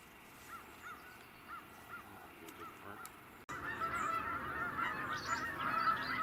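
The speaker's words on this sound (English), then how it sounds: "especially as far as birds go, are the Canada geese." Canada geese gather in large numbers at a beaver pond in winter, honking repeatedly; scattered calls give way after a few seconds to a louder, denser chorus of many birds honking together at moderate distance.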